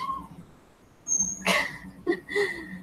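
A young male dog whimpers and yips in short, high, whiny bursts, fairly close, over a faint room background.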